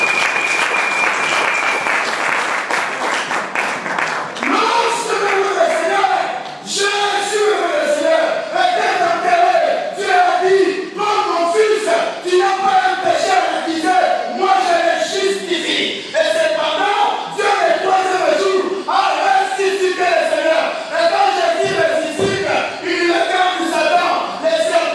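A church congregation acclaims the Lord with loud sustained applause and cheering shouts, a dense crowd roar that swells and continues throughout, with voices calling out together.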